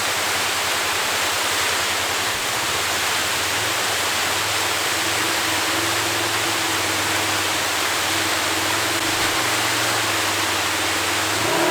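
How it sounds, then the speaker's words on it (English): Two-level waterfall, heard as a constant roaring rush of falling water, loud and close, with no break and no voices. "There's 2 different levels of waterfall."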